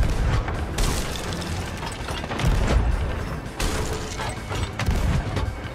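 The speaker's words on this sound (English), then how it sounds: "I lowered their anchor." A ship's anchor is lowered in Sea of Thieves with a rattling, clanking mechanical run of chain, broken by heavy booms and thuds that rise and fall across several seconds.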